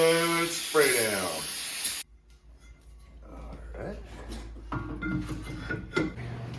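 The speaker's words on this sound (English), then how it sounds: "Give him a good spray down." Brake cleaner sprayed down the rear brake parts of a 2017 Jeep Wrangler during a brake job: a loud, close, steady hiss lasting about two seconds that cuts off sharply, followed by someone talking.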